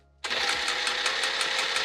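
A sewing machine starts abruptly and stitches fabric for a pillowcase, its motor whirring with a fast, even rhythmic chatter, close and loud, alone without speech.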